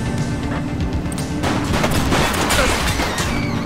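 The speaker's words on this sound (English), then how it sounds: "Shots fired!" Dense, loud gunfire and crashing impacts from a police-themed crime game, The Precinct, form a steady barrage of overlapping shots with no clear gaps.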